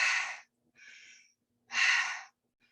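Deep, forceful breaths during guided breathwork: a strong rushing inhale, a softer breath, then another powerful inhale, each close and airy with short silences between and no speech.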